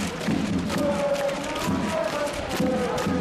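A stadium crowd at a Gangwon FC football match on a weekday evening keeps up a steady roar of cheering and chanting, broad and moderately loud, with voices blended into the crowd noise.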